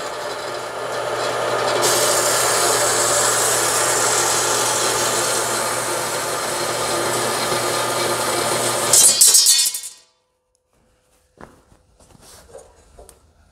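A handsaw cuts through wood for an RV battery box hold-down clamp, a steady close rasping stroke for about nine seconds that ends abruptly, followed by faint handling clatter.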